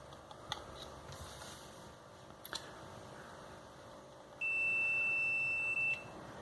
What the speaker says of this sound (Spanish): Hizo un bip.